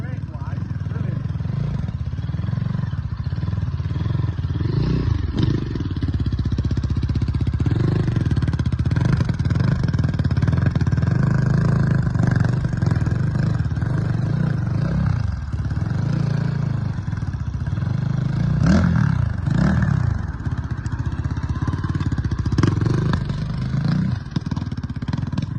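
A Tenaci Wong motorcycle taken out for a quick test ride, its mid-pitched engine droning and revving steadily throughout, with rises and falls in pitch as it accelerates, and people talking over it.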